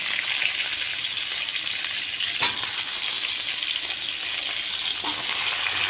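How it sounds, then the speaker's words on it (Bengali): Pieces of pointed gourd (potol), salted beforehand, frying in a pan with a steady, broad sizzle throughout, one brief clink near the middle, and no voices. "ভালো করে সুন্দর করে ভেজে নেব পটলগুলো।"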